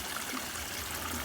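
A creek flowing through thick jungle gives a constant, close rush of running water, steady and even, with no voices.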